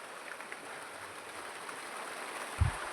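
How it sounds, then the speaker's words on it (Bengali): Heavy rain pours down in a steady dense hiss that continues evenly throughout, with one brief low thump near the end. "দেখো এখন বৃষ্টি হচ্ছে"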